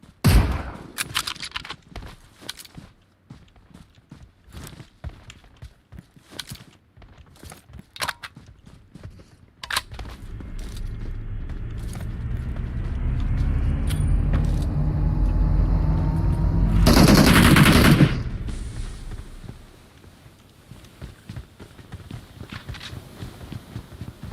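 Gunfire in a competitive online shooter match: scattered sharp shots early on, then a sustained roar of engine-like noise with a loud burst near the end, sporadic shots continuing afterward.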